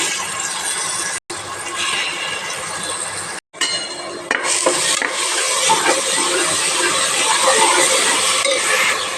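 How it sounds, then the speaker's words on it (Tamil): Ground spice paste sizzling in hot oil inside a pressure cooker, a steady crackling hiss broken by two brief gaps, then growing denser and louder as frying continues. "கொஞ்சம் கலர் மாறுற வரைக்கும் நம்ம ஃப்ரை பண்ணணும்"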